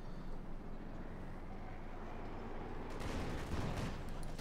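Combat in the WWII strategy game Company of Heroes 2, with Panther tanks and a sniper firing: a distant, rumbling wash of battle noise that swells into a burst of gunfire toward the end, fairly faint, without speech.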